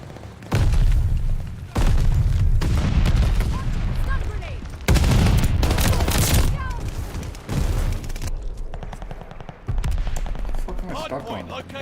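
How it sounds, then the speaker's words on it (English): Stun grenade and heavy gunfire in Call of Duty Vanguard, loud repeated booming bursts and rapid shots in several long blasts with short gaps, under occasional game voice callouts. "Stun grenade!"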